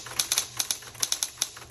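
Keystrikes clatter from a repainted 1960s Electra 120 typewriter, about a dozen sharp, fairly loud clacks in an uneven rapid rhythm, heard up close with no talking.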